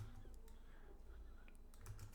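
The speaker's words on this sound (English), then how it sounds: "we will start typing the template right here" Quiet keystrokes on a computer keyboard, a steady patter of light clicks over faint room hum, with no voice.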